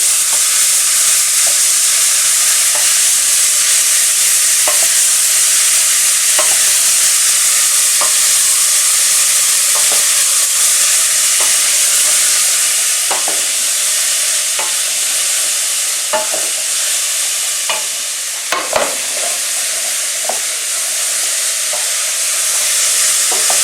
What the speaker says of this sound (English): Just keep them moving around so nothing sticks to the bottom of the pan.